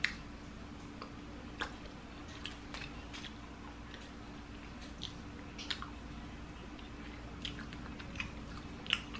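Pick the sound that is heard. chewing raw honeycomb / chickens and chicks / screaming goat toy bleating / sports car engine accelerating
chewing raw honeycomb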